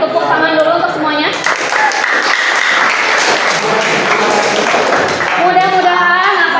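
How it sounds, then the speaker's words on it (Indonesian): A class claps together at the close of an Islamic religious education lesson, a loud sustained burst of many hands that starts after a voice, then gives way to talk at the end. "Tepuk tangan dulu untuk semuanya"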